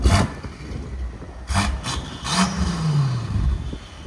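An F90 BMW M5 with a 4.4L twin-turbo V8 and aftermarket downpipes or resonator delete: a few sharp exhaust blips, then a fuller rev that climbs and falls back, heard nearby at moderate loudness.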